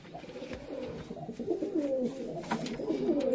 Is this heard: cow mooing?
no